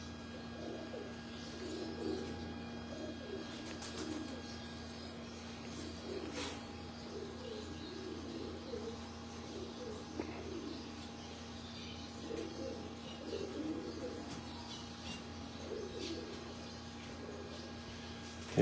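Pigeons in a breeder's loft give soft, repeated cooing calls, faint and fairly close, against a quiet background with a steady low hum.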